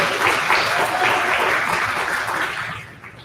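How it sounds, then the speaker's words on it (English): Audience at a community event applauding an organizer and her committee, loud continuous clapping from a full room that fades away in the final half second. "You give Sandra the organizing committee a round of applause."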